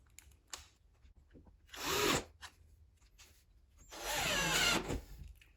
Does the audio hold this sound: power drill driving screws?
yes